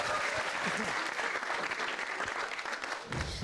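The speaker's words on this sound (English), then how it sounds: "start clapping for Ritika" An audience claps and applauds continuously throughout, with dense, steady clapping from a sizable crowd and no individual voices standing out.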